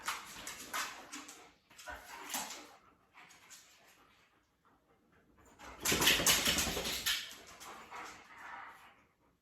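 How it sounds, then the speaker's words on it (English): Dogs bark and whimper during an indoor workout session, with bursts of yapping and whining that come in clusters, fade to near silence midway, then return louder and more frantic. "when the dogs were going crazy"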